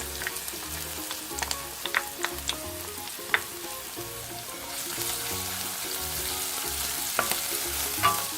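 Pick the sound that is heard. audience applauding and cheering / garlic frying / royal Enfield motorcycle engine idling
garlic frying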